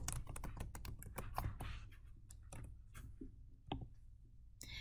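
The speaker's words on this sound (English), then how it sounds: "So you can simply just type in the title." A title is typed on a computer keyboard in rapid, irregular clusters of soft clicks that slow into a few scattered taps, faint and close by with no voices.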